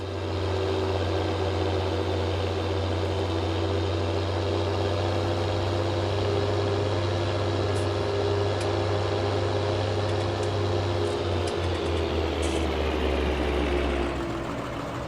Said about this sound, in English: this is my noisy tractor